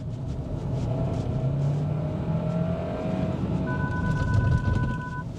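A Kia Sorento's engine revs and builds steadily under full-throttle acceleration, a broad low rumble with rising tones, close and loud throughout.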